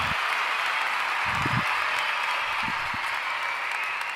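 Studio audience applause welcoming guests onto a talk show, a steady hiss of clapping that lasts the whole moment, with a few low thumps underneath.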